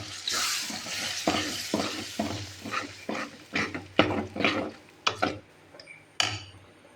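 A spoon scrapes rhythmically through curry with tomato and onion sizzling in a pan, each stroke a wet, gritty swish over the crackle of frying, close and fairly loud.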